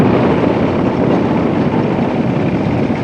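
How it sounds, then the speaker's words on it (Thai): A farm tractor approaching in a remote mountain village produces a loud, close, continuous engine drone with a rough low rumble and wind-like noise, with no talking. "รถไถกำลังมาแต่หน้า"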